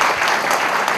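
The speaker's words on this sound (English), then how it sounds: "I better clap for the chairman, CMDA." Applause for the chairman of the Christian Medical and Dentist Association of Kenya, a brief burst of many hands clapping close by, loud and dense, filling the whole moment.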